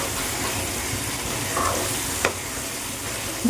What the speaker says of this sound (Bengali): দেখো পুরো তেল ছেড়ে দিয়েছে আমার মশলা কষা হয়ে গেছে